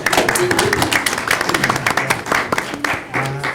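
Audience members clap at a school board meeting, a brisk patter of many hands with a few voices mixed in, close and fairly loud for a few seconds.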